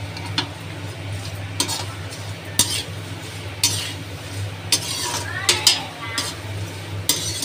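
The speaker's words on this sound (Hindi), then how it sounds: "अब मखाने भून लेंगे।" Makhana (fox nuts) being stirred and roasted in a pan with a little ghee, giving scattered light scraping and tapping clicks over a steady low hum, with no voices.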